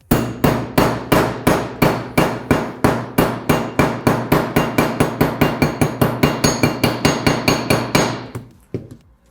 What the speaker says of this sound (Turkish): hafifçe oturtup ufak bir çekiç yardımıyla çakıyorum